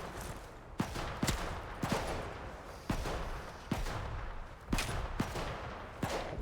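Enemy gunfire in the video game Atomfall, a string of sharp separate shots spaced irregularly about a second apart, each cracking out over a steady background of game ambience.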